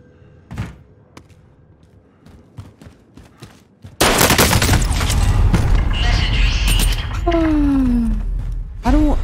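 Gunfire in Call of Duty Warzone: sparse faint shots and thuds under talk, then a sudden loud, dense burst of rapid shooting and impacts that continues for several seconds, with a voice speaking over it.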